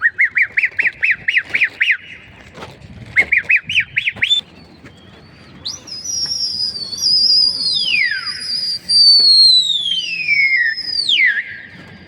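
Pigeons kept in a loft make harsh squawking bursts in quick rhythmic runs, then long sweeping whistle-like calls ring out loudly and close.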